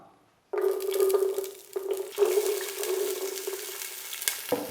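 Green peas sautéing in a hot pan for mushroom fried rice, a steady close sizzle that starts abruptly after a quiet moment and runs on with a few stir scrapes and clatters.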